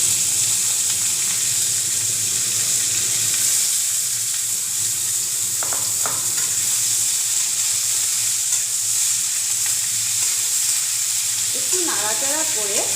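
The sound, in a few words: eggplant slices frying and sizzling in hot oil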